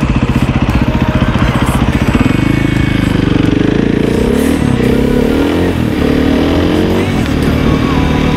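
A KTM 450 EXC dirt bike at full throttle roars loudly and continuously close by, its engine note rising through upshifts with pitch sweeps and a rough, buzzing thump throughout, with a voice partly heard over it.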